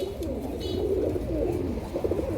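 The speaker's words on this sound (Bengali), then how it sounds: "শুরুতে এক জোড়া জিরা গলা কবুতর" A pair of jira-necked pigeons cooing close by, a soft, steady low murmur that runs throughout without any talk.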